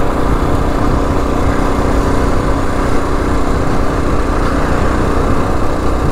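Kawasaki KLR 650 motorcycle with an upgraded exhaust, fuel injection and the snorkel removed, running with a steady, continuous engine drone held close and loud for the whole stretch, no voices over it.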